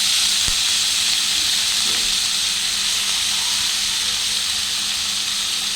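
Chopped spinach dropped into hot oil with garlic and turmeric, giving a steady, broad hissing sizzle that carries evenly throughout, close and moderately loud, with no talking.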